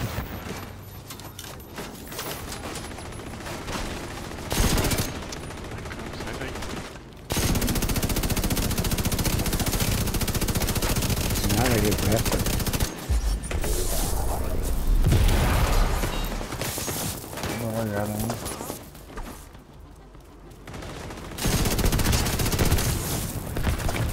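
Rapid automatic gunfire with shock ammunition in a Coney Island amusement park mission of a shooter video game, loud sustained bursts with brief pauses between them and mechanical clicks in the gaps.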